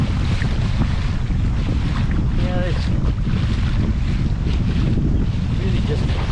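An Old Town Sportsman 132PDL pedal kayak cutting through rough, wind-driven waves: constant loud wind buffeting and water splashing and slapping against the hull, close and steady throughout, with a person speaking briefly.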